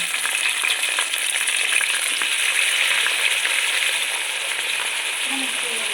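Washed pieces of country chicken, for a cashew nut curry, crackle and fry in hot oil in a pan. The sizzle is loud, close and continuous throughout.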